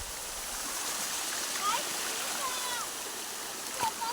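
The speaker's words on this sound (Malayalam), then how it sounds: "ഇതാ ഇതിൽ കൂടെ ഇതാ വെള്ളം വന്ന് ചാടുന്നു കേട്ടോ" Water rushing and splashing through a channel beside a vegetable field, a steady close hiss of flow throughout with a few brief bird-like chirps on top.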